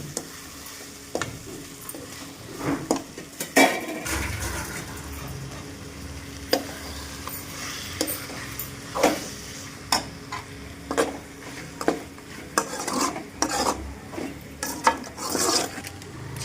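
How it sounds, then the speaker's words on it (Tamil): Chicken sautés in oil in a pan with a constant sizzle, punctuated by repeated scrapes and clinks of a spoon stirring against the metal at an uneven rhythm. "சிக்கனை எண்ணெயில் போட்டு நல்லா வதக்கியாச்சு"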